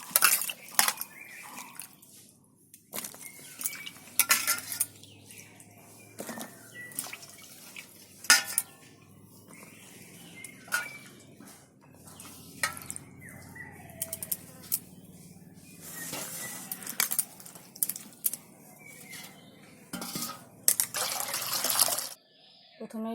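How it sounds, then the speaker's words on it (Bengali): Pieces of cut jackfruit rinsed in clean water in a kitchen, with intermittent splashing, dish and utensil clatter and bursts of running tap water, fairly close, with a few quiet sounds between. "আর একবার একটু পরিষ্কার জল দিয়ে ধুয়ে নেব"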